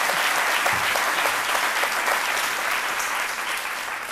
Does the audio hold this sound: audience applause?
yes